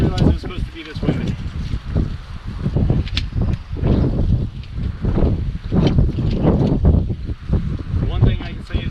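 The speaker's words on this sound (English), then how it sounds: "Did not realize it was supposed to be this windy." Strong wind buffeting a forest campsite, a constant rough roar with microphone rumble and gusty swells throughout, with someone speaking over it.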